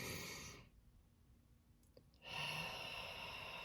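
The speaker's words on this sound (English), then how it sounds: "you take a deep breath in. Exhale." Slow deep breath taken in and let out during a calm relaxation exercise, soft and close, with a quiet hush between a muffled inhale and a gentle exhale, no talking.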